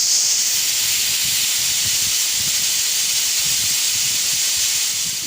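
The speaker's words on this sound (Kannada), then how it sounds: "ವಿಜಿಲ್ ಬಂದಿರೋದಾಗಿದೆ" A pressure cooker boiling native toor dal for Andhra-style dosakai pappu releases steam in a loud, steady, close hiss that holds unbroken for about five seconds before easing slightly at the end.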